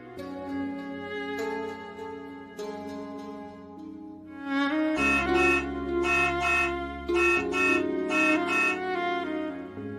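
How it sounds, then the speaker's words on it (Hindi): Repeated vehicle horn honks, a long sustained blare followed by several shorter toots in a rhythmic pattern, fairly loud over low background hum. "ये इस समय हॉर्न कौन बजा रहा है?"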